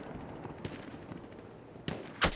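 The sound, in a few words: gunfire in the video game Battlefield 1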